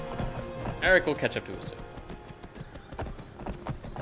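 Horse hooves clip-clop in Skyrim (Wildlander mod) beneath a man's speech, a steady run of soft thuds with a brief whinny-like cry near the start.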